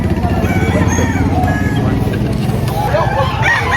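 Rooster crowing amid a busy chicken market in Padre Garcia, Batangas, loud and close, over steady crowd babble and other clucking fowl, with a brief rising call near the end.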